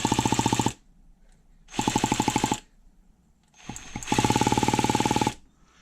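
An HPI Savage nitro engine, opened up, with its back plate held on by hand, revs in three loud, close bursts of rapid pulsing, separated by short lulls of quiet idle.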